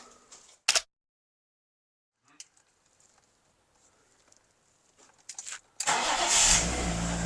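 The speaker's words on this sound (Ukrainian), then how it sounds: "Тупо з півтичка запустилась машина." A BMW E36 engine cranks and catches, settling into a steady, fairly loud idle after a short quiet stretch with faint clicks.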